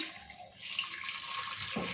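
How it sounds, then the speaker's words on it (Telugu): Water pours steadily into a cooker holding tamarind and tomato for a rasam, a continuous hissing splash that runs close and fairly loud for the whole stretch, with no voices. "ఇప్పుడు నీళ్ళు పోసుకుందాము."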